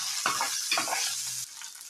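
Onions go into hot oil with dried red chillies, producing two quick bursts of sizzle and stirring, then a steadier frying hiss that eases off toward the end.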